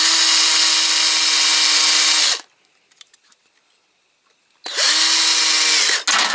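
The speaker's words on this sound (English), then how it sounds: "I'm going to finish drilling this one out here." A power drill bores into a Corgi Toys Mercedes-Benz Unimog 406 die-cast model, running loud and steady for about two seconds, pausing with faint clicks and handling, then whining again in a second long burst.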